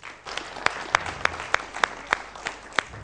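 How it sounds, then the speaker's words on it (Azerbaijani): Applause at a televised student quiz show with medical university contestants, sparse and fairly faint, with a few distinct sharp claps standing out at a slow irregular rhythm over a soft crowd background. "Alqışlarla yola salırıq"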